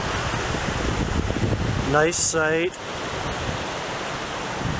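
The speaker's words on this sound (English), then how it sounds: "right next to this waterfall." Steady broadband rush of a waterfall right beside a campsite, loud and continuous throughout, with a brief spoken phrase breaking in over it near the middle.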